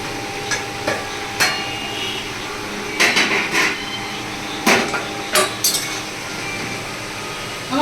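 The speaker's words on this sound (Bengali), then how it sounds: "এবার ঢাকনাটা একটুখানি খুলে দেখি।" A metal lid lifted partly off a cooking pot of boiling sour curry with prawn, pumpkin, hog plum, potato and okra, giving several sharp clinks and clanks spread over a few seconds against a faint background hiss.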